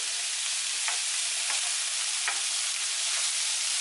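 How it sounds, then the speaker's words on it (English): Sofrito rice fries in a pot as it is stirred, producing a loud continuous close sizzle with a few soft scraping taps. "And now I can stir."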